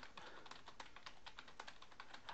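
A computer keyboard clacks in a quick, irregular burst of keystrokes, close and faint with no talking, keys being pressed for a text-editor shortcut.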